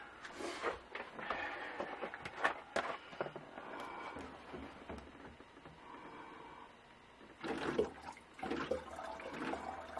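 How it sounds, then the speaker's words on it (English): Distilled white vinegar is poured into water, making faint, uneven liquid splashing and trickling up close with small clatters from handling, quiet and without talk. "I'm going to put about that much vinegar in it. Distilled white vinegar."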